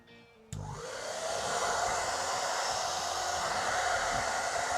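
A hair dryer with a split nozzle switches on and blows steadily and loudly, pushing acrylic paint across a surface for a Dutch pour, its broadband whoosh continuous after a short quieter start.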